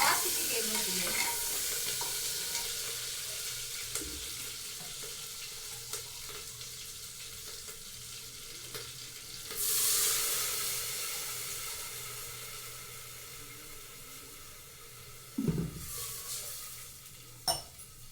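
Food sizzling in a pan in a home kitchen as ingredients, then rice, are added: a loud, steady frying hiss throughout, with a fresh surge of sizzle midway and occasional stirring clinks and scrapes near the end.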